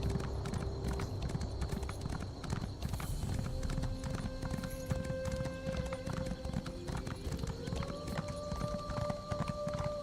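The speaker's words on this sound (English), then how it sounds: "this horse is quieter, see, he doesn't make those weird noises when I jump" Rhythmic clip-clop of hooves from a galloping horse in Elder Scrolls Online, steady and close, with game music tones and occasional light effects underneath.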